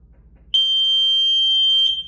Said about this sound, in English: as soon as the float switch is lifted up, typically by the water line, it'll enact the alarm